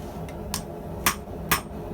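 A hammer strikes hot heat-resistant steel several times in an uneven rhythm while forging tongs, sharp ringing blows close by over a low background hum.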